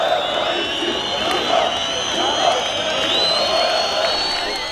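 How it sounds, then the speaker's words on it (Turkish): Thousands of protesters chanting and cheering together in the street, a loud, dense crowd roar with whistles and shouted voices rising and falling steadily throughout. "Burada da binlerce eylemci hep beraber tezahürat yaptı."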